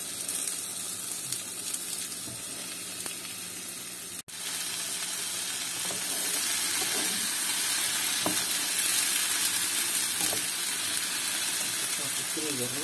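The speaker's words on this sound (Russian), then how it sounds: "И под крышкой жарю." Food sizzles steadily under a lid on a frying pan, a dense continuous hiss with faint crackles that grows slightly louder after a brief dip partway through.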